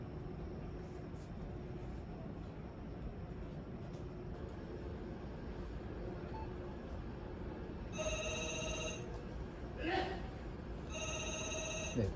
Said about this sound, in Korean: 지금 팩스가 수신되고 있습니다.